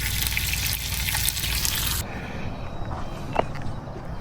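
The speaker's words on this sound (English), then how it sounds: "Frying up some bacon" Bacon frying in a pan at a camp, a dense bright sizzle that drops sharply to a quieter crackle halfway through, with a small knock near the end and no talking.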